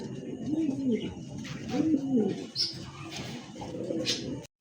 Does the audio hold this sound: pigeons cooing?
yes